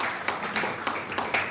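A church congregation claps along in a worship service, with several loud, evenly spaced clap bursts standing out over a dense, steady background of hands and noise.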